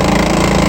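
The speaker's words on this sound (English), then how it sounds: "I pushed the button to open to stop that grinding sound from the motor" The sunroof motor on a Mitsubishi Delica L400 grinds in a harsh, dense, continuous rattle, loud and close, with no voices over it.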